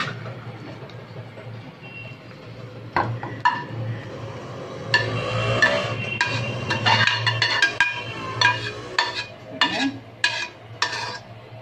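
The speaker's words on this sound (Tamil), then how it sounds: "கேஸ் ஆஃப் பண்ணிட்டு நம்ம இன்னொரு அந்த பாத்திரத்துக்கு மாத்திடலாம்." A cooked palak spinach dish is moved to another vessel with the gas off, bringing clanks of metal pots and utensils, scraping and stirring, and several sharp knocks in the second half over a steady low kitchen hum, with no talk.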